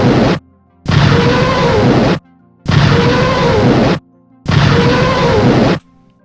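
Nebelwerfer WW2 artillery rockets in the Arma 3 game, three loud roaring launch blasts at even intervals, each lasting over a second and separated by short silences.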